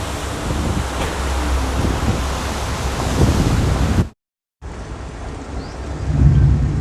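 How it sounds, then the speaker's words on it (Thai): Heavy rain pours down amid roaring gusts of wind in Bangkok, a dense continuous wash of storm noise, briefly cutting out before resuming just as strong. "ฟ้าทลายฝนตกลม ฝนถล่มฟ้าทลายครับ"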